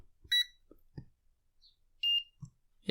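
A VENLAB VM600A digital multimeter giving two short, high electronic beeps about two seconds apart, with soft handling clicks and taps around them.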